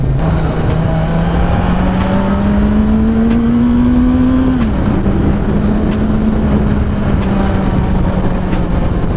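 A Kawasaki Ninja 1000 engine in low power mode hums steadily at moderate revs, rising slowly then dropping as the rider shifts, with constant wind and road noise throughout.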